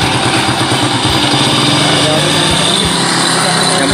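A motorcycle engine runs steadily with a buzzing, pulsing note as it is tried out, close and loud, with voices talking over it.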